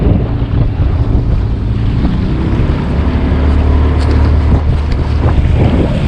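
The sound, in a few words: small motorboat running at sea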